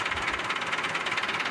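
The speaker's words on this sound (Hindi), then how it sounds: "इंजन ट्रैक्टर का आप चेक कर लें जी, इंजन गियर इस ट्रैक्टर का बिल्कुल बेआवाज़ है।" A 2010 Massey Ferguson 375 tractor idles nearby, its diesel engine giving a steady, even knocking rumble with no speech.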